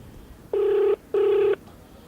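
A telephone rings twice during a call-in to a live broadcast. Two loud, close electronic rings, each about half a second long, are separated by a short pause, with no talk.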